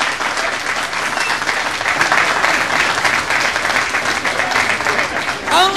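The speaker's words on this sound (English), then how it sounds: "may I ask you to join me in a round of applause for our entertainment this morning, Mr. Jim Larkin and the Jim Larkin Group" A morning crowd at a job center opening gives the Jim Larkin jazz group a round of applause, sustained, dense and loud clapping throughout.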